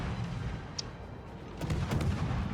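Naval guns fire in the World of Warships video game during a ranked match. Dull booming shots land over a continuous low rumble of battle, loud and close, with no voices.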